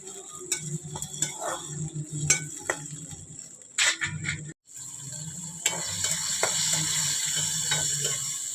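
Oil sizzles steadily in a pan as green chillies fry, with occasional clinks of a utensil against metal and a brief pause before the frying resumes louder.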